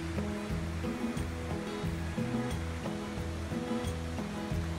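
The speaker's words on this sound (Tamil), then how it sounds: "இவ்வளோ மூர்க்கத்தனமாக பாஞ்சு ஓடுது அவ்வளவு தண்ணியும்" Fast-rushing water of the St Lawrence River near Montreal, Quebec, roars in a steady, dense wash throughout, with a low, repeating musical pattern sounding beneath it.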